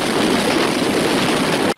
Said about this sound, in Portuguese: Muitas pessoas só puderam ser resgatadas assim, de helicóptero.